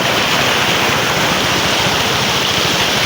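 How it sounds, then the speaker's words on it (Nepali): Floodwater rushes over a road during a landslide at Melli bazar, a loud, dense, unbroken roar of churning water close by. "पानीको फोर्स हेर्नुस्"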